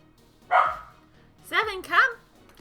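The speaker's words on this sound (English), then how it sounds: "No more barking." Dogs and puppies bark indoors, one sharp bark followed by two more close together, moderately loud and near.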